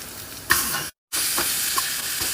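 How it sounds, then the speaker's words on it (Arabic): Meat dropping into a hot pan of onions and garlic bursts into loud, close sizzling that cuts out briefly, then resumes as a steady hiss and crackle with light stirring. "نضيف اللحم"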